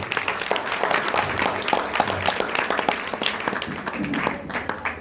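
An audience at a Basava Jayanti speech gathering breaks into scattered applause, a dense run of clapping that holds steady for several seconds and then thins out.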